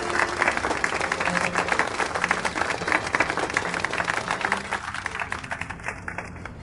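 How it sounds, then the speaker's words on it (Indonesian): Steady applause at an evening party as guests welcome the sponsor before the first dance, dense clapping sustained throughout and easing slightly toward the end. "tepuk tangan"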